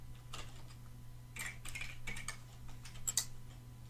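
Soft clicking of fingers typing a password on a computer keyboard, irregular light key taps in short bursts over a faint steady hum.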